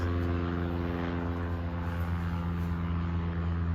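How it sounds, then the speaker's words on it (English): A propeller airplane drones steadily overhead, a constant low engine hum filling the whole stretch without a break. "airplane, I can hear you. It's so obnoxious."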